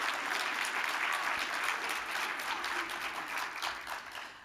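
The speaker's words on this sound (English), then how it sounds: "How about another round of applause for Dr. Scott?" An audience at a faculty awards presentation applauds an award recipient with full, sustained clapping from a room of people, loud and even throughout, tapering slightly at the end.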